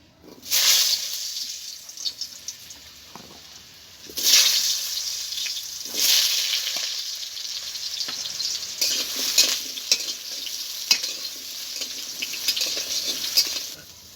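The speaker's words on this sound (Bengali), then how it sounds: "এই আলুগুলোকে ভেজে নেব।" Chandramukhi potato pieces sizzle in a hot pan, with loud bursts of frying each time they are stirred and quieter crackling in between.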